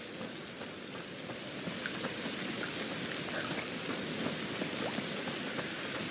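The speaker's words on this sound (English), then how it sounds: "Foul rain." Rain in the video game A Plague Tale: Requiem falls steadily and close, a dense hiss of drops striking surfaces with scattered sharper patters and no speech.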